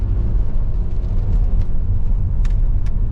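Ford Fiesta passing near a garage, a steady low rumbling engine and road noise, loud and close, with a few faint clicks on top and no talk.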